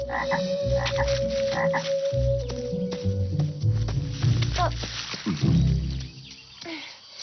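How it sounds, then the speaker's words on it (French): Large Holdridge toads croak in a misty outdoor setting, a dense chorus of deep, throbbing, overlapping calls that swell and fade over several seconds, loud and near, with no talking. "Moi et ma famille, nous cherchons aussi les grenouilles. Enfin, je veux dire les crapauds, les très gros crapauds."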